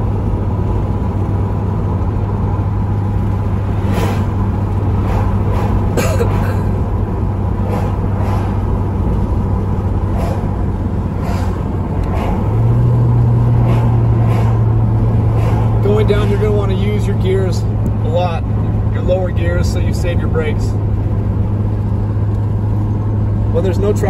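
A car rolls downhill in gear on Highway 18 from Big Bear toward San Bernardino, with a steady low engine drone and road rumble filling the interior throughout while someone talks over it.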